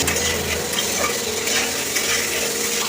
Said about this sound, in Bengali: এবার আলুটাকে ভালো করে একটু ভেজে নেবো।